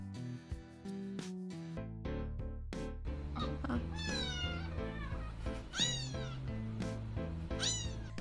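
A pet cat meows repeatedly and close up, with rising and falling calls and some drawn-out wailing, heard against a bright, tonal music-like background.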